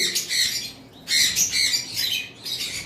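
Caged breeding pairs of pet birds such as cockatiels, lovebirds and budgerigars give loud, harsh squawks close by, four bursts in quick succession separated by brief quiet gaps.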